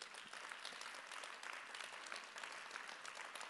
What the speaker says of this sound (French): On peut applaudir aussi toute la technique, s'il vous plaît.